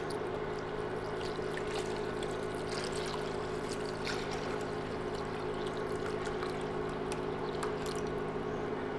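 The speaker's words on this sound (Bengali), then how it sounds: "এবার 1 লিটার পানি দিচ্ছি।" About a litre of water pours steadily into lentils in a cooking pot, a continuous close splashing and trickling that lasts several seconds without talk.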